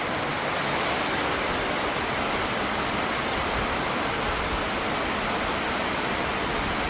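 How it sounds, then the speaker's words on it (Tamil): Steady, dense rainfall in Thiruvananthapuram, a loud continuous hiss of falling rain that stays even throughout with no voices. "மழை பெய்யுது."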